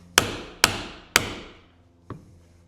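A hammer strikes a 1.5 inch C.S. Osborne English point punch to cut a leather belt to length: three sharp, loud, evenly spaced blows ringing out, then a lighter fourth tap, close up with no talking.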